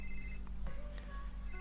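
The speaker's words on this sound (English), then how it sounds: "The ringtone, very ancient one as well." An old cell phone ringtone in the Itch.io game Happiness, a short electronic melody of steady tones playing over a low background hum, with a brief break in the middle before the tones return.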